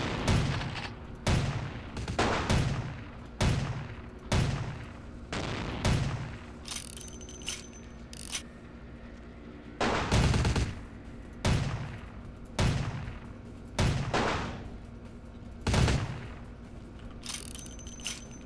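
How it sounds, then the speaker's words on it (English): Gunfire in the video game Vampire: the Masquerade - Bloodlines, a steady series of sharp, loud shots in pairs and clusters spaced about a second apart, with short pauses between volleys. "I just heard another shot coming from here somewhere."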